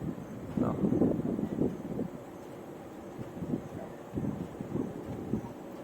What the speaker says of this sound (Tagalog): Hangin ra kayo.